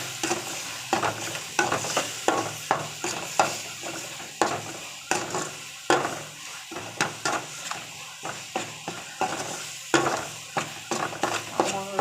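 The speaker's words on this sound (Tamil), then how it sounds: "இப்போது நல்லா வதக்கிக்கலாம்" Chili powder, cumin powder, salt and chana masala powder sautéed for a chana masala gravy, with a spoon scraping and stirring the pan in steady repeated strokes over a soft sizzle, close and alone.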